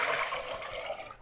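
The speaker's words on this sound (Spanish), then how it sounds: "Aquí le voy a agregar nada más poquita agua." Water is poured into a kitchen pot to make hot chocolate, a steady close splashing stream that fills the whole moment and tapers off at the end.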